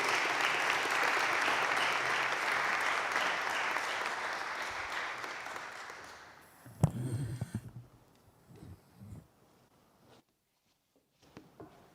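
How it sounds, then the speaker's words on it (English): An audience at a graduation ceremony claps loudly for a PhD graduate, dense applause that fades after about six seconds into scattered claps and rustling, then near silence. "let's give a big round of applause to our PhD graduate"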